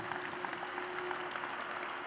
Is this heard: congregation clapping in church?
yes